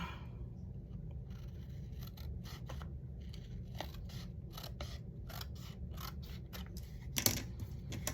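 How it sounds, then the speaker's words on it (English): Scissors snipping paper while trimming a sheet for a handmade altered-envelope mini notebook, a run of close, crisp cuts over a steady low background hum, with one louder snip near the end. "Maybe I want it shorter than this. Let me cut it just a little bit."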